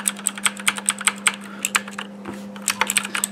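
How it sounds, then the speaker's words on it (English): Loud backlit gaming keyboard clatters under steady typing, each keystroke a crisp close click in quick irregular bursts, with a brief pause midway and a constant low hum beneath. "it's actually a pretty nice keyboard. My only main complaint with it is that it's really loud."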